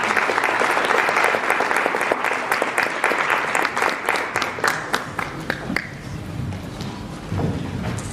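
Conference crowd at the 5th AOGS 2019 summit claps loudly and continuously, the applause thick for about six seconds before thinning and tapering off into scattered claps and room noise.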